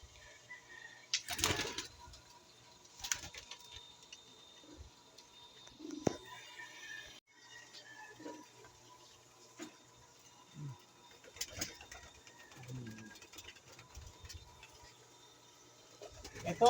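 Pigeons in a fancier's loft give soft, scattered coos and low calls, faint and intermittent, with light wing flutters and small knocks in between.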